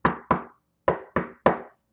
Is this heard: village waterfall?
no